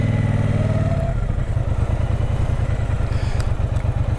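A Triumph Speedmaster 1200 motorcycle rides along a road in the hills, its engine droning loud and steady at close range, easing off after a second into a lower, rhythmic thrum with some clatter.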